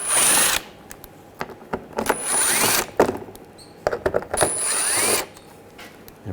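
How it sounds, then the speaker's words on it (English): Screws being backed out of a 2007-2013 BMW 328i with an 8mm socket on a power driver, three loud whirring bursts separated by quieter clicks and handling noises, close up with no talk. "we're going to take these screws out, use a 8mm socket."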